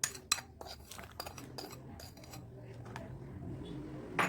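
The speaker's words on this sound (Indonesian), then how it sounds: "Lalu saya aduk hingga larut" A metal spoon stirring salt water in a glass, close, bright clinks and scrapes against the glass, irregular at first and then a quieter swirl ending with one more clink.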